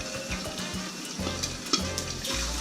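Sweet ripe plantains sizzle steadily in a pan on medium heat. The frying stays loud and close throughout, with a few light clatters as the slices go in.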